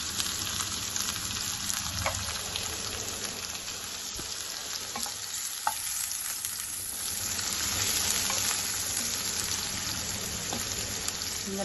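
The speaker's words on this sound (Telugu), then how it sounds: "సన్నగా తరిగిన ఉల్లిగడ్డలు 2 పావుల నూనె వేసి వేయించుకోవాలి" Thinly sliced onions fry in oil for a Telangana-style curry, giving a steady, dense sizzle with crackling and occasional stirring scrapes that runs unbroken from start to end.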